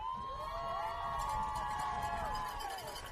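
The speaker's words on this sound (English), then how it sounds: "those are our fans you hear cheering our boys on as our offense comes back out onto the field" Cougars football fans cheer from the stands at a Clay-Chalkville versus Thompson high school game, a steady crowd roar with whistles and shouts rising and falling throughout.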